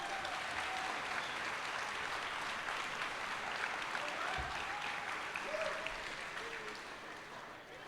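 Sustained applause from an audience at a 2019 Reapercon awards ceremony, a dense steady wash of clapping across the whole stretch that fades slightly at the end.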